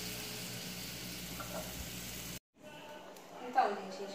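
Sliced onion frying and caramelizing in a pan, a steady soft sizzle over the first half, then a brief drop to near silence before quieter frying resumes with faint clinks; no talk over it.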